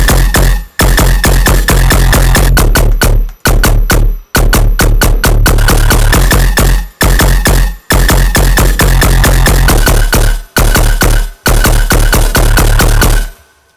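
Heavily distorted tearout bass synth stabs with recto distortion hitting in rapid, loud, choppy bursts and short gaps, a gnarly aggressive riff with no voice over it.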